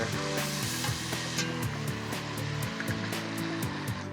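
Crushed coriander roots are stir-fried in a hot pan for a Muslim-style Thai dish, giving a loud, continuous sizzle with repeated scraping and stirring strokes and no talking.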